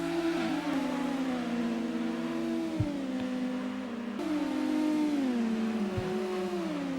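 Racing cars lap the reverse high-speed ring track in Gran Turismo on PS1, engines whining steadily with pitch sweeping up and down through gear changes, a continuous synthetic drone of several cars.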